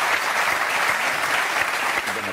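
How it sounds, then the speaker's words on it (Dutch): A Dutch television studio audience gives a warm welcome to an arriving guest, with dense, sustained applause at an even loudness throughout and a faint murmur of voices beneath it. "Geef hem een hartelijk applaus."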